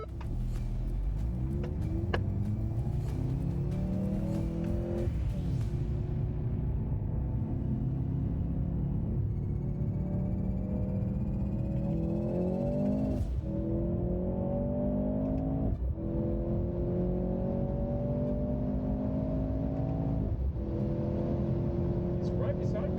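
A 2023 Mercedes C43 AMG and a 2022 Genesis G70 3.3T launch side by side in a drag race from cones in second gear. Loud, close engine roar climbs in pitch through repeated gear changes, with steady rumble throughout and speech over the engines.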